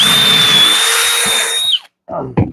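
A power drill spins a pocket hole jig cutter with no dust collection, a loud steady high whine for nearly two seconds that winds down, followed by short bursts of chips and handling.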